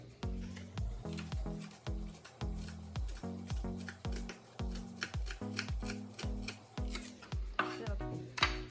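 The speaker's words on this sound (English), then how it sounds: "I'm going to continue to cut the parsley" A knife chops parsley on a cutting board in quick, steady strokes. The rhythmic, close taps run continuously, and no one speaks.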